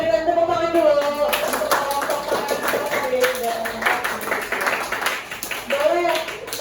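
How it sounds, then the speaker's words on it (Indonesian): Students in a classroom clap together, a steady burst of hand-clapping with voices talking over it and rising again toward the end. "Kita berikan tepuk tangan dulu."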